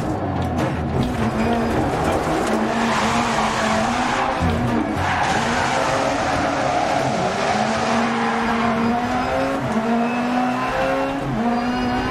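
Rally car engine at full throttle in Dirt Rally 2.0, revving hard and continuously with pitch shifts between gears, mixed with gravelly skidding and tyre scrabble throughout, loud and close.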